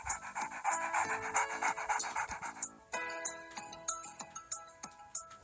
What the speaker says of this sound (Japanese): これ置くとワンちゃん出てくる？